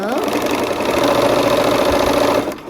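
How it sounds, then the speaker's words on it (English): A sewing machine runs steadily close by, stitching a quarter-inch seam along a quilt block for hourglass units, its mechanical whir continuous for most of the stretch before easing off near the end. "we'll sew 1/4 inch on both sides and cut that open"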